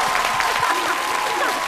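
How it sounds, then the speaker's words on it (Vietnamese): A studio audience at a televised singing show applauds the two coaching teams. The clapping is a steady, even wash with a sustained tone and some murmur underneath. "Một tràng pháo tay cho hai ban huấn luyện."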